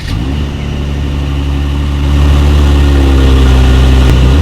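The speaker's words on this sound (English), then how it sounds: "there are dual exhaust outlets with chrome tips, so as always, you guys, here is that exhaust clip." A 2018 Mercedes-Benz E400 Coupe with dual chrome-tipped exhaust outlets runs close to the tailpipes, a loud, steady engine drone that rises in pitch partway through as the revs climb, with no talking.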